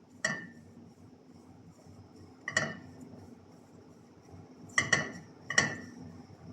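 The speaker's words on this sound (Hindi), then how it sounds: "मैंने 4 टेबल स्पून नारियल का पाउडर लिया है, इसको भी हम भून लेंगे।" Coconut powder being dry-roasted in a pan, with a handful of sharp metallic clinks of a spoon against the pan at uneven intervals over a quiet background.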